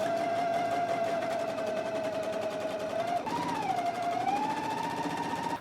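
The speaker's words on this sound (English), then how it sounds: "So let's go ahead and do all of our gathering stitches now." A sewing machine runs a long steady line of gathering basting stitches along the upper edge of a skirt, a continuous close whirring hum that shifts pitch slightly partway through as the speed changes.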